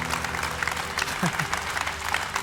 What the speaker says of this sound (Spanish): ¿Por qué no damos un fuerte aplauso una vez más a nuestro Dios?